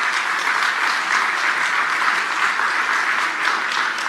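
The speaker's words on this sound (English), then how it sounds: "all of you are clapping because you know why" Sustained applause from a large audience at a political speech, a dense, even wash of many hands clapping at once with no voice over it.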